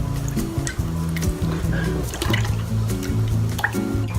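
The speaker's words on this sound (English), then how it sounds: "I have to rinse this brush by using clean water" Clean water runs and splashes steadily over a makeup brush during a rinse, with a continuous close, trickling wash and a low humming tone underneath, and no talk.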